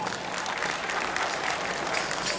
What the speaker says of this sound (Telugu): గట్టిగా చప్పట్లు కొట్టాలని కోరుతున్నాను.